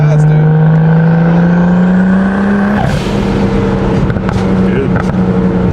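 A BMW 135i with an N54 single-turbo engine and X-pipe exhaust drones loudly at steady revs, rising slightly before a sharp shift-like break, then settles into a lower tone with a voice talking over it.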